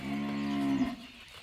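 A single close cow moo, low and drawn out, rises and ends after about a second, then fades into a quiet farm setting with no talking.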